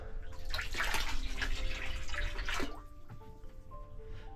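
Water pours steadily into a 480-gallon tropical fish pond as it fills, a splashing gush with bubbling and dripping, fairly close and without talk.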